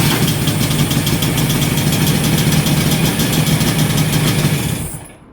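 A 70-year-old two-stroke motorbike engine runs loud and close with a rapid, rattling putter, holding steady for several seconds before cutting out and dying away at the end.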